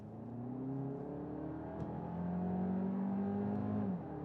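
Audi Q3 with the 265-horsepower 2-liter TFSI engine accelerating from 30 to 50 mph, heard from inside as a smooth rising engine hum with climbing tones, a short dip near a gear change, then continuing to build.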